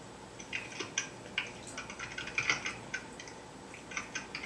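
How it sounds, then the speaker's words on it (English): Keys tapped on a computer keyboard in quick, irregular bursts of soft clicks at close range over a low room hum, with no voices. "You go ahead and type."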